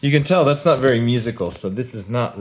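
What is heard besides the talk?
No everyday noise stands out behind the speech.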